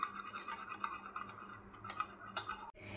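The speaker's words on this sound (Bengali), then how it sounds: "দিয়ে ডিমটাকে ভালো করে ফাটিয়ে নেব" Egg being beaten with a pinch of salt, a utensil clicking and scraping quickly against a bowl in a steady, close, busy rhythm, with a couple of sharper clinks near the end.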